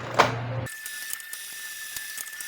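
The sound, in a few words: Canon G-series printer running deep head cleaning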